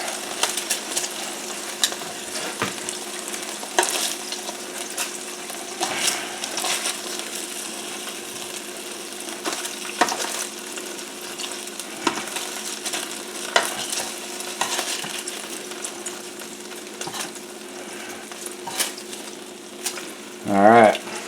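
Pork chops frying in a pan for Italian pork chops make a continuous close sizzle with occasional utensil clinks and scrapes, with a louder clatter near the end.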